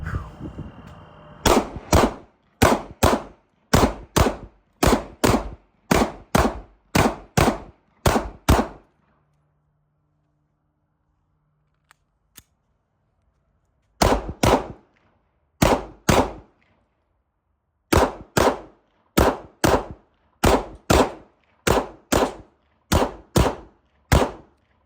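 Repeated gunshots from an M&P 2.0 handgun during a high-round-count range session, sharp loud cracks fired in quick strings, a long quiet pause, then more rapid volleys.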